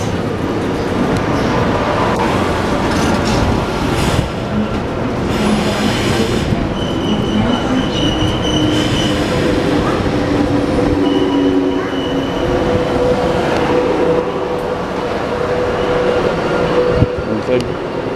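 Korail subway train in Seoul passing close by with a steady loud rumble, rattling wheels and intermittent high squeals from the rails, with people talking faintly underneath.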